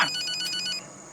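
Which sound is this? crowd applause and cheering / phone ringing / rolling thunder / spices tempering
phone ringing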